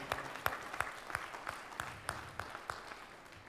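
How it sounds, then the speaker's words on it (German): Sparse, rhythmic clapping from a concert audience, individual claps landing in a steady beat, fairly close and moderately loud, fading slightly toward the end. "Ja, ja, Applaus für Sie."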